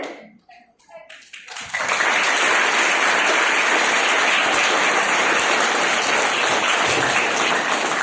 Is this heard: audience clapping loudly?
yes